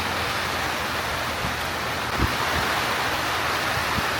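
Rain falling at an outdoor kart track during a British Prokart Championship sprint race, a steady dense hiss throughout with a few faint low thumps, loud and without speech.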